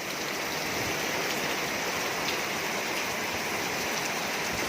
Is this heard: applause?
no